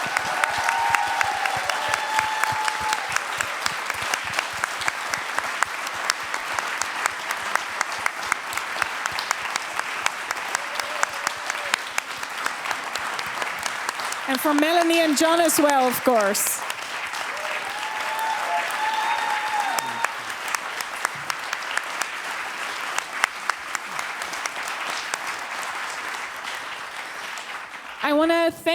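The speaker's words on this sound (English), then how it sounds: "I want a very big round of applause for our guests." Long, steady audience applause for guests at a green-transition talk event, sustained dense clapping throughout with a brief voice speaking over it partway through and again near the end.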